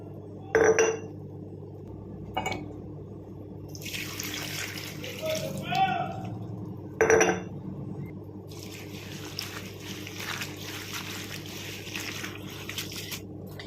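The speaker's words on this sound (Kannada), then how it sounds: "ಇವಾಗ ನೀರು ಹಾಕಿ ತೊಳ್ಕೊಂಬಿಡೋಣ" Fenugreek leaves being washed in water in a kitchen vessel, with splashing and trickling water, a couple of sharp clinks of a pot, and intermittent handling noise at close range.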